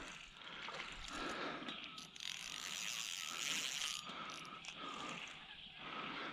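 A fishing reel's drag clicks in rapid ratcheting bursts while a large carp is played on the line near water, fairly faint, with uneven stops and starts and no talking.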